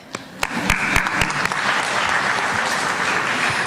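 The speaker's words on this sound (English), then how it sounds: "You all deserve yet another round of applause" Audience applause at an education conference keynote: a dense round of clapping from a large crowd that swells in the first half-second and holds steady and loud throughout, with a few sharper individual claps early on.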